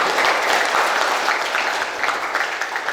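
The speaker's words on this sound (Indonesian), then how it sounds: "Tepuk tangan untuk kalian semua." An audience breaks into steady, dense applause at a choir competition winners' announcement, clapping filling the room continuously without talk.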